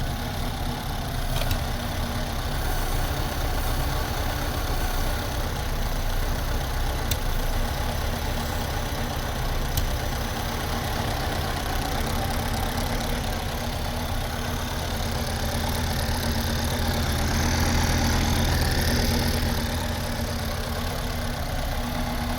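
A Porsche Cayenne S engine idles at its first startup after repair, with parts such as the secondary air pump not yet refitted. It gives a steady, even rumble from start to finish, close and continuous with no talking.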